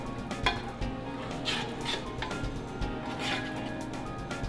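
A whisk or spoon stirs beurre blanc sauce in a pan after a pinch of sugar goes in, soft repeated scraping and light metallic taps against a low simmer, no talking.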